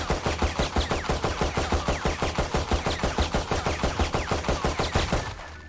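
Rapid, evenly spaced gunfire in the Valorant video game as a player shoots down a wall, a loud unbroken string of dozens of shots that cuts off near the end.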